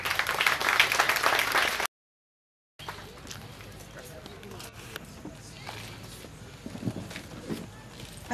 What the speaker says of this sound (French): Applaudissez une fois de plus pour le parrain du festival 3e édition.